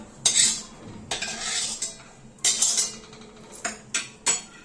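Roasted dry fruits being stirred in ghee in a pan, with a spoon scraping and clinking against the metal in separate bursts, close and fairly loud, no talk.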